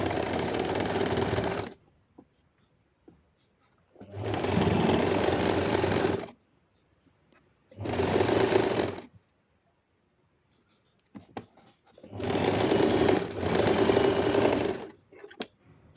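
A sewing machine stitches a folded hem on a frock in four steady whirring runs of about two seconds each, separated by quiet pauses, close and clear.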